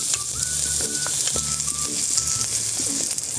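Garlic sautéing in a little hot oil in a pan for pork-blossom adobo, a steady close sizzle with faint clinks and rattles through it and no talking.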